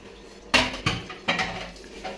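Dishes are set down one after another, four distinct clattering knocks spaced irregularly over a couple of seconds in a quiet room.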